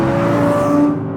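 Audi R8 with a naturally aspirated V10 engine, a loud steady drone with a sustained high tone and a slight rise in pitch, close and continuous, with no talking.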